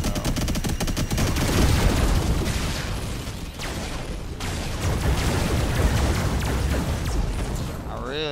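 Rapid gunfire and heavy blasts from robot tank vehicles in the video game Robocraft, a loud continuous barrage with booms, voices mixed in under the battle.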